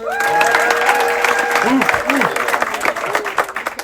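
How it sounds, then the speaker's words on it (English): A crowd applauds a crew member of the Amadeus during a celebratory crew introduction, dense clapping filling the room while whistles and cheering voices ring out over it, thinning toward the end. "Big applause for Emre"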